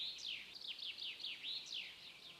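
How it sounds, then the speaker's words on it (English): Birds chirp and trill outdoors at an ancient sacred stone site, a run of quick, swooping high notes repeating steadily against a faint background hush. "I hope you hear the birds sing."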